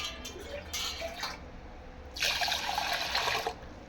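Water pours and splashes into a container of lentils set to soak, in two short bursts, close up, the second longer and fuller.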